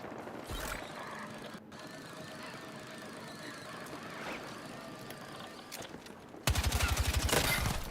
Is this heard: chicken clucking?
no